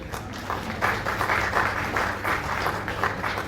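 Audience applause at a talent honours ceremony as a guest is welcomed to the stage, steady dense clapping with pulsing surges, moderately loud and continuous, with faint voices underneath.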